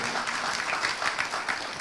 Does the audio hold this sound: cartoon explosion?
no